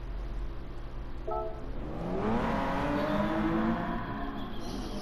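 McLaren F1 with a BMW 6.1-litre 48-valve V12 engine in GT Sport at the Red Bull Ring, a sustained engine drone that swells into a louder rising roar as it accelerates partway through.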